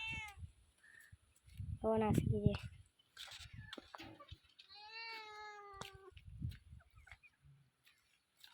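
A cat meows several times, drawn-out and plaintive, with a person talking in between and around the meows.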